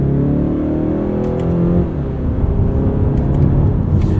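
A 2026 Mazda CX-5 with its six-speed automatic in sport mode blips the engine to rev-match on a downshift, a steady close cabin drone that swells then settles, with no talk over it.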